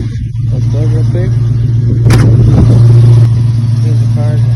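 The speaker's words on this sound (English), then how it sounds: "about to show this video starting the 1967 Ford Mustang" A 1967 Ford Mustang with a 302 crate motor starts up and runs, its steady low engine rumble loud and close with a brief louder burst partway through, while a person talks over it.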